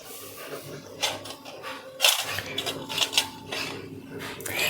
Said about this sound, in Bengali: এখন গ্যাসে কড়াইটা বসিয়ে দেব